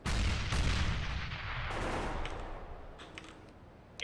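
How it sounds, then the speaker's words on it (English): A grenade goes off in CS:GO as a heavy close blast with a booming low rumble. The rumble fades over a few seconds, and scattered gunfire and clicks follow. "Grenade out."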